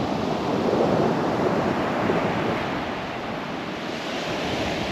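Atlantic surf breaks and washes continuously along the Irish coast at Ballydowen Bay, a loud, steady roar of waves with wind buffeting the microphone throughout.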